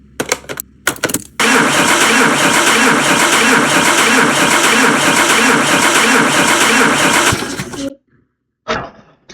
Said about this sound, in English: the engine is still cranking